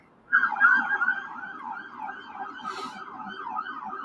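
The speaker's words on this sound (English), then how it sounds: "See the siren?" An ambulance siren wails at moderate loudness, starting abruptly and then sweeping steadily up and down for several cycles, with no voices over it.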